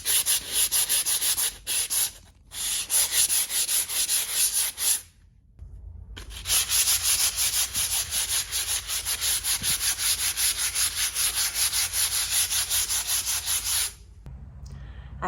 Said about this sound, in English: When it dries, you can give it a quick sand.